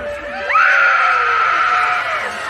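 A crowd of audience members screams together at a Disney World monster comedy show, a loud sustained rising shriek that holds for about two seconds before fading.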